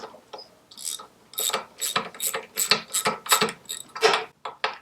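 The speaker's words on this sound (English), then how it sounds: "you don't want to watch me undo nuts and bolts" Ratchet wrench clicks rapidly in close bursts, undoing nuts and bolts on a Citroën 2CV engine, with metallic tool rattles between strokes.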